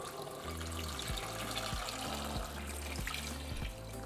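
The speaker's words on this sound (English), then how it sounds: "We're going to fill it up with water." Water runs steadily from a tap into a saucepan, a continuous splashing stream with a faint rising tone as the vessel fills.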